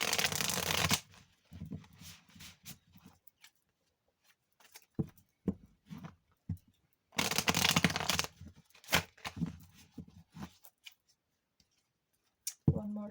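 A deck of tarot cards is shuffled in repeated bursts of crisp riffling and flicking, separated by short quiet gaps, close and clear with no talking.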